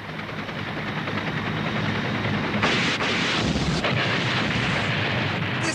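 Military helicopter rotors drone in a loud, steady roar mixed with wind buffeting, a rushing wash that swells partway through.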